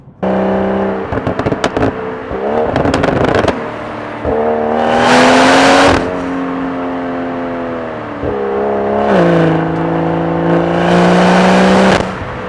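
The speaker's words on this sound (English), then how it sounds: "The exhaust notes, the pops, the bangs" A BMW M240i engine, tuned to 410 bhp, revs hard through several gear changes, with sharp crackling pops and bangs from the exhaust between pulls, loud and close.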